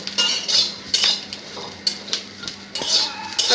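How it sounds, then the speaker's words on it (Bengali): Green cooking banana dry-fried in a pan without oil, with a utensil scraping and clattering against the metal in repeated sharp bursts, close and fairly loud, with no voices. "কাঠকলা ভাজতেছি"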